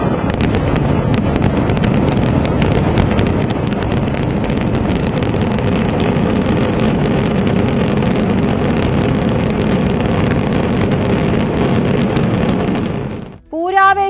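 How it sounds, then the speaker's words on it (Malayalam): Sample fireworks display at the Thrissur Pooram festival in Kerala: a dense, loud, continuous barrage of crackling bursts and booms rolling on for about thirteen seconds before it cuts off. "വർണ്ണവിസ്മയമായി സാമ്പിൾ വെടിക്കെട്ട്"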